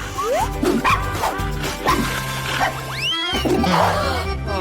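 Dogs bark and yip repeatedly from a TV show about dogs, sharp close barks in quick bursts mixed with whimpers and a few cartoonish sound effects.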